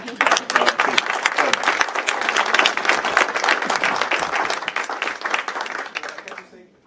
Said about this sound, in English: let's end with a round of applause for all of our